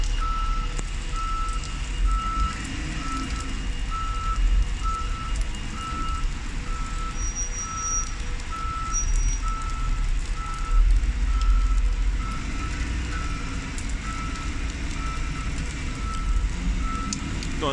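A bus backs up at Gloucester bus station with a steady repeating reversing beep, evenly spaced tones over a low engine rumble and background hum.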